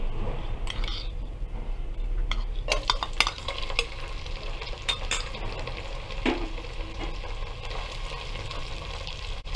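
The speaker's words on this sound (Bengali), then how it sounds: "এখন একসঙ্গে মিশিয়ে নেব" Shrimp fried rice with chili powder being stirred in a pan, a steady close scraping and sizzling with irregular clinks of the utensil against the metal throughout.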